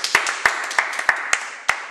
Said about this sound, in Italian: Facciamo un applauso a Federica